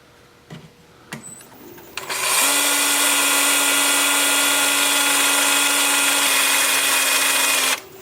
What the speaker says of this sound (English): Then I'll just switch to my 2-inch sanding disc.